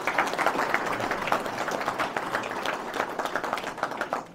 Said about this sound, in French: Merci Philippe, pour l'applaudir